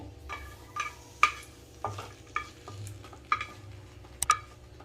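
Ingredients for a curry leaf chutney, including mustard seeds and urad dal, fry softly in a pan with a little oil, with a steady low sizzle broken by regular stirring clicks of a spoon against the pan.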